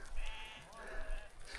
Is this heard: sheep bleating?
yes